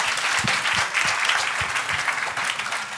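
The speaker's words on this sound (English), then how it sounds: "Round of applause for this lady here." Conference audience clapping at a B2B marketing event, a dense, steady round of applause from a room full of people, close and sustained without pause.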